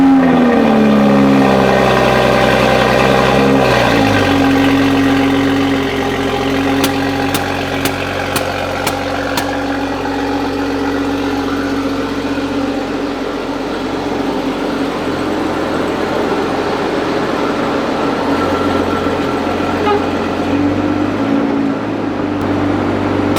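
A 2021 Toyota Supra A90, fitted with a widebody kit, runs close by as it is pulled out, its engine settling from a brief rising note into a steady low idle drone with a few faint clicks and no talk.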